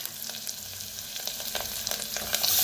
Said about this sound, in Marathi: आता जे आपण ताक बनवून घेतलेलं आहे ओतूया